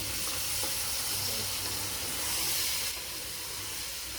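Potatoes frying in a pan with browned onion and garlic for a spicy potato soup, giving a steady, close sizzle and hiss with no talk.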